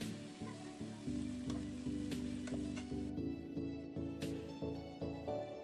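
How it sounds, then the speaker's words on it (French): Vegetables sizzle and fry in olive oil in a pan while being stirred, a steady close crackle with rhythmic scraping strokes for lasagne filling. "On remue bien le tout pour bien rendre homogène nos légumes ensemble."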